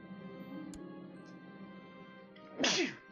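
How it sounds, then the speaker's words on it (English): A single sharp sneeze bursts out near the end of the stretch, close and loud against a steady low hum of background sound. "Bless you."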